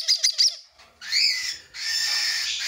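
Baby Rosifron conures beg for food with shrill, close chirps: a quick burst of short squeaky calls, then two longer, raspy wheezing cries, with no talking.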